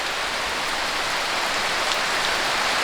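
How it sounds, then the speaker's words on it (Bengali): Steady, heavy rain hisses continuously on a surface, a dense, even downpour with no voices. "সেই জোরে জোরে বৃষ্টি পড়তেছে"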